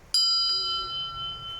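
A bell on a memorial monument in Mülheim rings once with a bright metallic strike and a second lighter tap, its tone ringing on and slowly fading outdoors with faint background noise.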